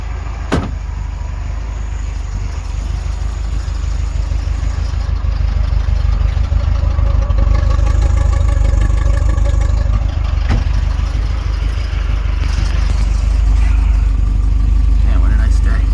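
A 1963 Corvette split-window with a 327 V8 and 4-speed idles with a steady low rumble, a door thuds, then the engine builds as the car pulls off, while people talk over it.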